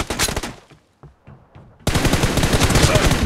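An M416 rifle in PUBG Mobile team deathmatch fires in loud, rapid automatic bursts, a short burst at first, a brief lull with scattered distant shots, then a sustained close stream of gunfire.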